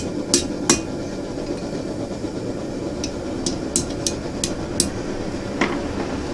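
Light, scattered hammer taps on a forged steel plant holder piece as it is straightened, sharp metallic clinks spaced irregularly over a steady background hum in a blacksmith shop.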